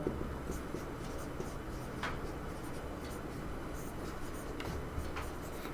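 Pen scratching across paper while a Class 10 geometry solution is written out, a soft steady scraping with small strokes, faint and close, with no talking.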